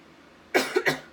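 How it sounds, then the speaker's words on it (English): A couple of quick, close coughs after a quiet stretch, the second one a short double burst. "Sorry, I keep coughing."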